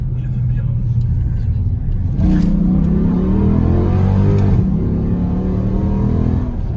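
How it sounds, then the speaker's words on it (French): A car at a red light revs its engine for a burnout, a heavy rumble swelling into a louder rising roar partway through and then easing, with people talking over the engine throughout. "Le mieux, c'est quand tu es arrêté, tu fais un vrai burn."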